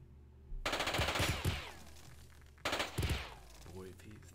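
Two bursts of automatic gunfire from a Jagged Alliance 2 firefight, militia under attack in an Urban Chaos 1.13 urban sector; rapid loud rattling volleys with a pause between, ending in fainter clatter.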